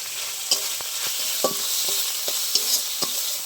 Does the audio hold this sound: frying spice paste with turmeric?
yes